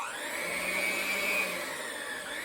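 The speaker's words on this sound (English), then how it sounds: "just take an electric mixer and give it a mix until it's well combined and creamy" A handheld electric mixer runs steadily in a bowl of pumpkin pie ingredients, giving a continuous high whine that wavers slightly in pitch as it churns the batter until creamy, close and alone with no talking.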